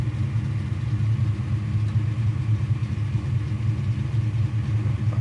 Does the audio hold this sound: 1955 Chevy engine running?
yes